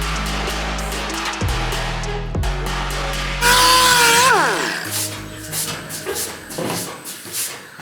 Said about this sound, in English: Grind the top off and hammer and dolly it.